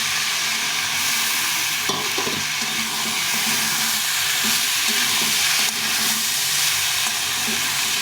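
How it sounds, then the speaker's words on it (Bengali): Rice and lentils fry with spices in a pan for khichuri, giving a steady, close hiss and sizzle with occasional scraping from stirring and no talk. "এই চালটা আমি দিয়ে একটু ভেজে নেবো ডালটাকে হালকা একটু মশলার সঙ্গে ভেজে নেব"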